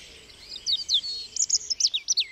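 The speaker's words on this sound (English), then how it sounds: "at the moment you've got robin, you've got blackbird, song thrush" Bright, high song of robin, blackbird and song thrush at dawn, quick chirps and warbling phrases overlapping in a brief outdoor chorus.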